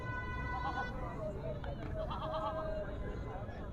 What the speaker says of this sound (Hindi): बहुत सी नस्ल की बकरियाँ यहाँ पर आई हुई हैं।